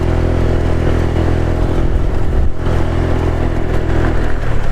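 A Honda Vario 125 scooter riding along a road, its engine droning steadily and loudly up close with wind and road rumble, no voices over it.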